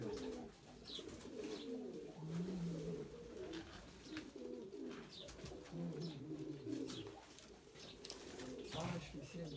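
Pigeons coo continuously inside a pigeon loft, a layered chorus of soft, rolling low calls with occasional wing rustles and scratches, steady and fairly close throughout.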